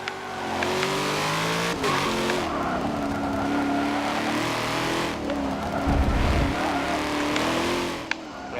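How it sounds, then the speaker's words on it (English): A race car in Forza Motorsport 7 locks its brakes and slides, with tires squealing and skidding over a loud, wavering engine drone that dips and revs again across the run. "That's like the worst thing you can do is lock up the brakes on this game. It sends you sliding instead of where you want to go."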